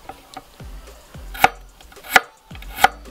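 A knife chops carrot into half-centimetre slices on a cutting board, several sharp knocks at a steady, unhurried pace, close and clear with no talking.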